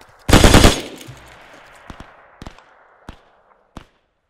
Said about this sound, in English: Whoa, I'm getting shot at.